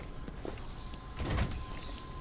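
A door in the video game Batman Arkham Origins opens with a faint mechanical slide, a brief swelling whoosh in the middle of otherwise quiet background ambience.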